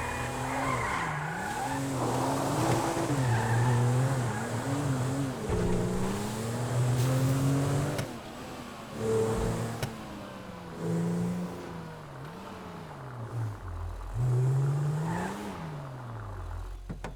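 A car in Grand Theft Auto V revs and rises and falls in pitch as it drives hard, with continuous tire squeals and skids, loud and close throughout.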